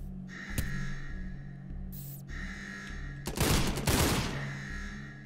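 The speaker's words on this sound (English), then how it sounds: "It's an assault shotgun." An assault shotgun fires in a video game, a few sharp blasts followed by a dense loud burst of rapid shots near the end, over a steady humming game background.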